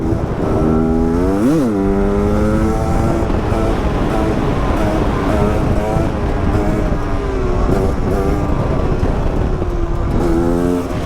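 An enduro motorcycle on enduro wheels accelerating hard for a run-up, its engine loud and close, revving up and rising and falling in pitch through repeated gear pulls with no talk.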